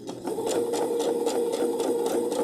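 A serger stitches quilt binding with a steady, rapid mechanical whir and regular rhythmic ticking, continuous and close throughout.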